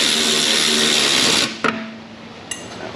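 A motorized wrench whirs steadily while tightening the rear fasteners on a small engine, then cuts out abruptly, followed by a couple of sharp metallic clicks in the quiet.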